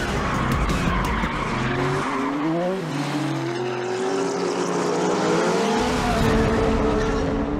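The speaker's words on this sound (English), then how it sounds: "As we slalom through the containers, I push the Z06 hard to build on my slender lead." A Corvette Z06 slaloms hard between shipping containers at a dockside, its tires squealing loudly and continuously with wavering pitch over the roaring engine, with no talking.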